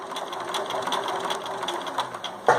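Sewing machine stitching through drawstring bag fabric, a rapid even mechanical whir and patter close up, ending with a sharp clunk as the machine stops.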